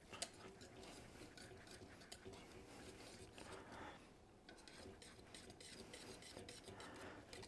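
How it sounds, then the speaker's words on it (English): A spoon stirs shredded cheese into a thick grits mixture in a bowl, giving a steady scraping, rubbing texture that keeps going throughout, close by and fairly quiet, with no talking. "we're going to give that a good stir"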